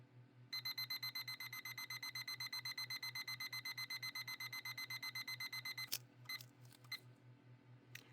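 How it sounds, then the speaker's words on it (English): A timer is being set and emits a rapid, steady run of bright electronic beeps for about five seconds, followed by a few soft clicks, heard alone without speech. "I'm going to set a timer."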